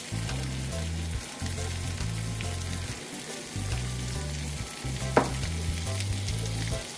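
Skirt steak and vegetables sizzling in a stir-fry pan, a steady close-up frying hiss with a rhythmic scraping of stirring throughout and one sharp clink near the end.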